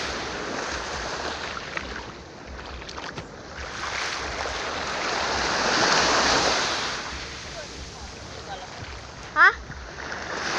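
Sea waves wash and splash onto the shore in a steady surf roar with wind noise across the microphone, swelling louder midway, and one sharper splash near the end.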